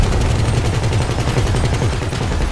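Rapid automatic cannon fire from a Valkyrie military helicopter in GTA Online, a loud continuous burst of closely spaced shots rattling throughout without pause.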